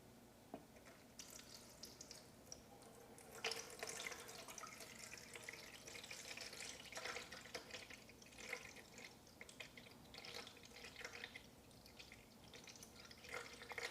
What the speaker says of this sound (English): I'm pouring in 3 liters.